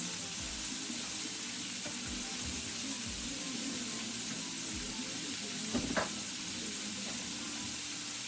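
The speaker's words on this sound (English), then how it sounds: "Just want to brown it for 1 minute." Top blade steak browning in a hot pan, a faint continuous sizzle with a few soft clanks and scrapes, no voices.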